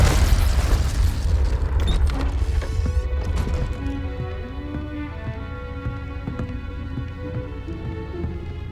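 A Confringo blasting spell explodes in the video game Hogwarts Legacy, a heavy, loud low boom rumbling over the first few seconds before fading under tonal game music that carries on alone.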